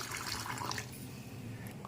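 Water is poured over rice to soak it in a home kitchen. The pour is a faint, short trickling splash that fades after the first moment.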